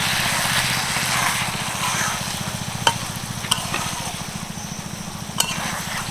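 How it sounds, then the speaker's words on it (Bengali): Vinegar being stirred into brinjal pickle, a steady scraping and mixing sound with a few sharp clinks of the spoon, close and continuous without speech. "দু চামচ মতো দিয়ে দিচ্ছি ভিনিগার ভালো করে মিশিয়ে নেব"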